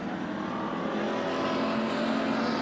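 IMCA race cars on the dirt oval at Bakersfield Speedway, several engines roaring together in a dense continuous drone as the field runs side by side into a turn.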